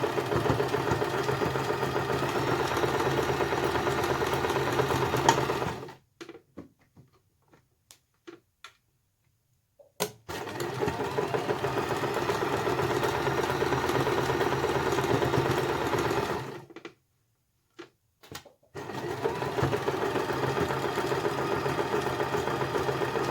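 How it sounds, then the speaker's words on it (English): A sewing machine stitches fabric in steady mechanical bursts, stopping for a few seconds in between, with no talking. "I'm going to take that over to the sewing machine."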